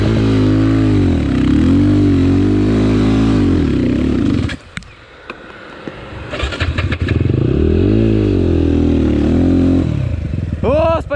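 An enduro motorcycle engine revs hard in wavering surges, falls silent with clattering and handling noises, then catches again and climbs back to a loud, rising roar close by.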